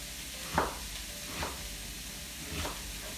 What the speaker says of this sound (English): I'd rather saute any day. So I'll put a little bit of purple onion just to give it some color.